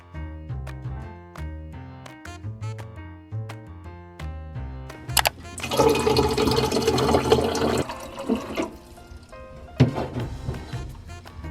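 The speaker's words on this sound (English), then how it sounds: "I just filled up my water" A water bottle is filled from a tap, a rushing, gurgling pour lasting a few seconds, preceded by a sequence of sharp ticking clicks and followed by a few thunks and softer water noise.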